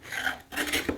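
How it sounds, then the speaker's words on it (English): A chisel pares a blind dado in wood, two short scraping strokes close up with a brief pause between them. "steering the chisel, taking a deeper cut or a lighter cut, working all the way back until I remove that little high spot"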